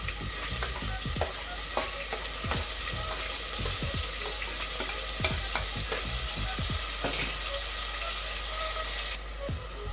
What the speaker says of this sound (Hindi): जैसे ही ऑयल गर्म हुआ ये डाला हमने इसमें जीरा और साथ में डाल देंगे प्याज